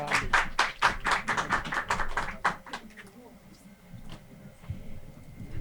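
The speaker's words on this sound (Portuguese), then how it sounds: "Gente, uma salva de palmas para o Gilson" An audience claps for a guest at a sustainability talk event, a dense burst of applause lasting about three seconds before fading into quiet room noise.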